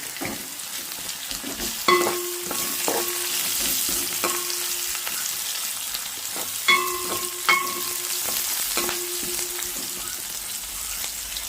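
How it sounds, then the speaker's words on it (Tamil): Onions sizzle steadily in hot oil in a pan, with a few sharp clinks and scrapes of a spoon stirring them at intervals over the continuous frying hiss. "வெங்காயம் வடிவாக நல்ல வடிவாக பொரியட்டு தான்."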